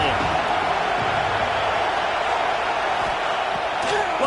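Stadium crowd noise at a Nebraska versus Texas football game, a dense continuous roar with scattered whoops and thuds that stays steady, with no talk in the clip.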